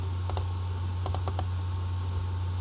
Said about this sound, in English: double click on that